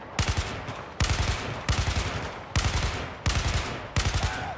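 Automatic weapon fire in the Battlefield 4 video game, five rapid bursts of loud, close shots spaced about a second apart, each burst a quick rattle of cracks.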